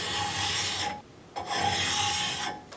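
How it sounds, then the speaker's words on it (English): A turned wooden vase spinning on a lathe while being sanded with 600 grit sandpaper, two close, steady raspy rubbing passes separated by a brief pause. "Then I like to just follow up with some 600 grit. Smooth that out real nice."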